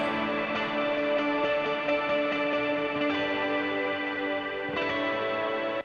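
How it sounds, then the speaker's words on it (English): Sustained electric guitar chords drenched in wide, washy reverb and chorus, ringing continuously with a long, smeared tail and no talking. "The long tail reverb, this is creating a lot of noise"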